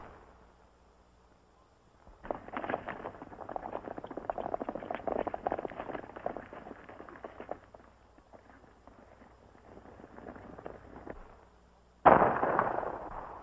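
Gunfire erupts during a canyon attack in a classic western film: a dense, crackling run of shots and bangs continues for about ten seconds, then a louder, sharper burst hits near the end.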